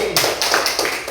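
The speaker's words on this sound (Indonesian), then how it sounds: "kita beri tepuk tangan untuk kelompok cinta kasih." A classroom of students applauds a student group, a short burst of dense, close clapping that stays fairly loud for about a second.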